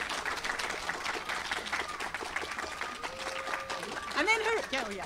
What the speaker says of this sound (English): let's just cheer for the vestry